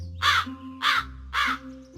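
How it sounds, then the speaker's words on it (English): A crow caws three times at an even pace, each call harsh and raspy, loud and near, with brief quiet gaps between them. "Yes, the crow is cawing."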